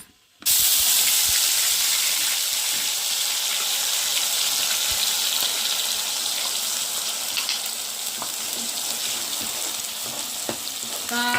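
Ginger garlic paste frying in a pan with onion and green chillies gives a loud, steady sizzle and hiss. It runs unbroken from just after the start, with faint crackles and no voices.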